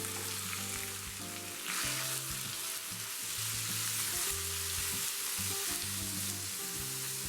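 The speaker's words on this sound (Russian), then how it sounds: "а вслед за ними обжариваем куриную грудку" Chicken breast sizzles steadily in a hot frying pan, a continuous crackling fry with occasional stirring and scraping sounds, close and fairly loud throughout with no voices.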